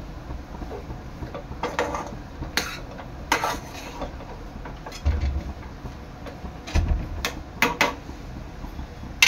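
A spoon scrapes and clinks against a pan while cashews, almonds, pistachios, charoli and raisins are stirred into sweet semolina shira, giving irregular close metallic taps and scrapes over a quiet background.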